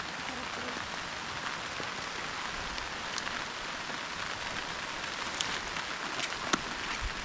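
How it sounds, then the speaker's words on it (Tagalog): Steady, dense rainfall hisses continuously on surfaces nearby, with occasional sharper drips and taps standing out. "Ay, maghapong ulan po dito."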